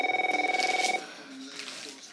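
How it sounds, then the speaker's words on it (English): A cartoon telephone rings in an animated film, a fast warbling electronic trill for about a second that then stops and leaves quiet room tone. "who's ringing on the phone?"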